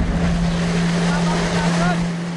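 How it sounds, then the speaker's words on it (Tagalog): A flyboard on the sea at Subic, driven by a hydrojet water jet, gives a steady, loud motor drone with rushing water and wind buffeting the microphone. "Ang flyboard o hydrojet surfing, kung saan animoy superhero na angat sa tubig ang rider."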